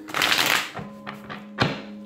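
Tarot cards are shuffled by hand: a dense riffling burst, then a couple of sharp taps and a final crisp flutter as the deck is squared, close and fairly loud with no talk.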